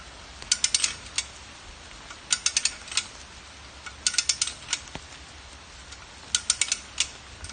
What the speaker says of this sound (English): a lot of winch cable is coming in, only taking up flex in the line